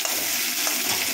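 Finely chopped onion frying in oil with a bay leaf and a dried red chili for egg curry, making a brief, bright, continuous sizzle close up with no voices.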